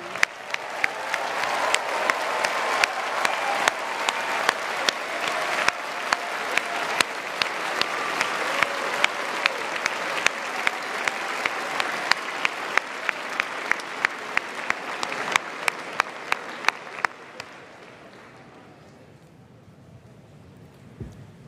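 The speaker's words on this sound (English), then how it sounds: "They deserve an amazing applause." Sustained applause from a large crowd at a graduation convocation, dense steady clapping that fades out near the end, leaving a quiet hall.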